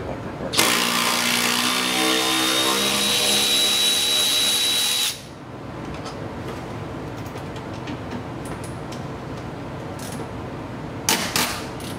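An electric ratchet whirs loudly for about five seconds while backing out red-thread-locked seat bolts from a Tesla Model 3, with a grinding, stripping edge, then stops, leaving faint clicks and handling noises and a short final burst.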